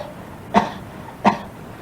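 Two short dry coughs from a listener in a satsang audience, about a second apart, clear and moderately close over a quiet room.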